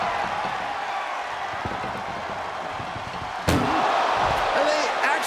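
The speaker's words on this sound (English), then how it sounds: "Doing their best just to shut that first door." An ambulance door slams shut in a WWE 2K25 ambulance match, a single loud bang partway through, followed by crowd noise and commentary.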